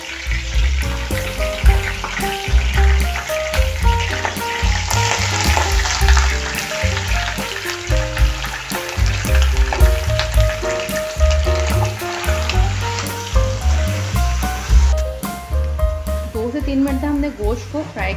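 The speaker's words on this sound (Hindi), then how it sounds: "गोश्त को 2 से 3 मिनट तक हम फ्राई करेंगे" Meat pieces fry in hot oil for tori gosht, a continuous loud sizzle with the clatter of a spoon stirring through the pan, close up and steady throughout.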